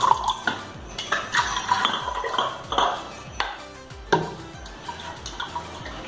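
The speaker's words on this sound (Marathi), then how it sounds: "अजून अर्धा ग्लास टाकूयात पाणी।" Water pours from a glass into a pot of mung and toor dal being cooked for dal tadka. Faint splashing and drips mix with scattered metallic clinks of kitchen utensils, and no one speaks.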